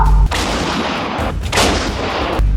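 Artillery guns fire in high mountains around 16,000 feet during the 1999 Kargil war, with three loud booming blasts spaced about a second apart, each followed by rolling echo.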